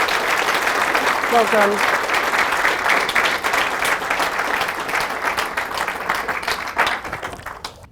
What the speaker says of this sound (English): let's just get a round of applause for Dean's story